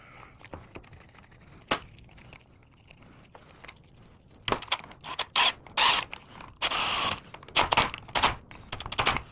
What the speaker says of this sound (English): Put your 3 bolts back on.